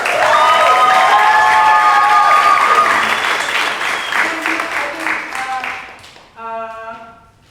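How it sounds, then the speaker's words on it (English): A festival crowd applauds performers after a song, loud and dense clapping with some cheering that slowly thins out over several seconds before a voice begins speaking. "let's just give all of them a round of applause"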